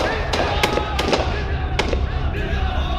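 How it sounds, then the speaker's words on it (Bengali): Blank gunshots fired skyward in military style by a band of young revolutionaries in Chittagong, a dramatized audio effect: several sharp reports ring out at uneven intervals over a dense rumbling background, loud and close. "সামরিক কায়দায় আকাশের দিকে ফাঁকা গুলি ছুড়ল বিপ্লবী তরুণের দল।"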